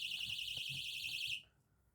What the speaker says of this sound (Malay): Matikan alarm.